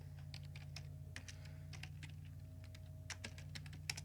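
Rapid, irregular clicks of fingers typing on a computer keyboard, close and fairly soft over a steady electrical hum, with no talking.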